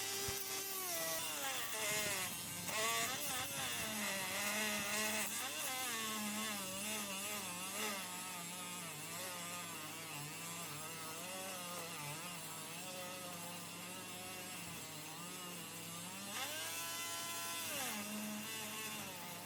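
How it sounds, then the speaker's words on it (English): A power sander grinds a chip of case red bone knife handle down into fine dust, a steady, loud motor whine with a wavering pitch that runs unbroken throughout. "I have a chip of case red bone handle that I'm going to try to sand down"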